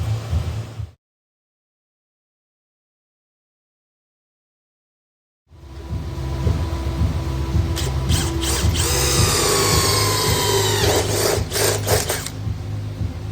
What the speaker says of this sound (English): I gotta drill those out.